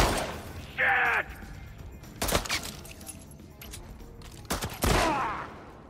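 Several pistol shots ring out in The Last of Us 2 video game. Two quick bursts of loud, sharp cracks are spaced a few seconds apart, mixed with other brief in-game clatter and effects.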